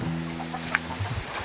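Chickens in Junjun's backyard coop give a few soft, scattered clucks over a steady low farmyard hum, with one brief sharper call near the middle.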